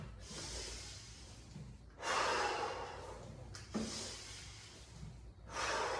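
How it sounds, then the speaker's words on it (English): Heavy, rhythmic breaths during a gentle home exercise session, with long loud exhales in repeated bursts roughly every one and a half to two seconds, close to the microphone and with no talking. "I find sometimes just working with the breathing can really help you."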